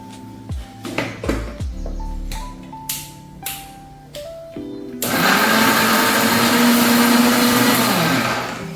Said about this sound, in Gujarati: હવે મિક્સર જાર બંધ કરીને આપણે એને ચટણી બનાવી લઈશું.